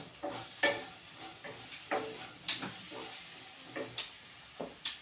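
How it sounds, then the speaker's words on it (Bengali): Cumin and red chilli powder stir-fried in a pan: a run of sharp, close spatula scrapes and knocks, roughly eight, spaced unevenly over a low, steady sizzle. "জিরের গুঁড়ো দিচ্ছি লাল লঙ্কার গুঁড়ো দিচ্ছি দিয়ে এবার কষিয়ে নেব"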